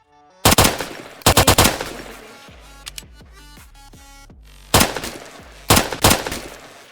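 Gunfire in a self-made video game comes in loud, sharp bursts of rapid shots, four volleys separated by pauses, with a few quieter mechanical clicks and ringing tones in the gap between them.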